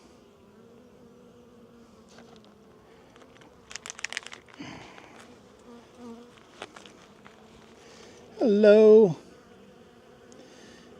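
Honey bees buzz during a mid-winter apiary inspection, a low close-up drone with brief louder bursts and a few crinkling handling sounds, while someone says a short greeting toward the end.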